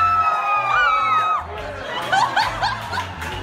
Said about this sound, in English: people would run out on the sidewalk and,